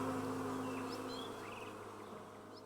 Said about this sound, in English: the distant hum of bees